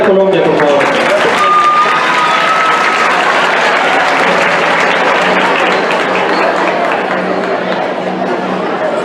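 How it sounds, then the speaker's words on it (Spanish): Sustained audience applause at a 20 July Independence Day celebration in Colombia, greeting a Miss Colombia introduction: dense, loud clapping that fills the whole stretch, with crowd murmur mixed in. "Un aplauso para la señorita Colombia,"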